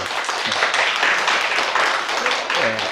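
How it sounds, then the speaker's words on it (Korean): A church congregation claps in welcome for a young man just back from Marine Corps service, a short burst of mixed applause with voices and brief tonal sounds rising over it. "박수로 환영합니다"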